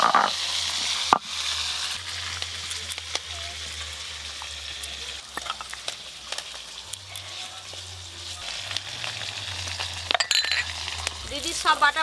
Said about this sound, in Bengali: ট্যাংরা মাছগুলো একবারেই ভেজে নেব।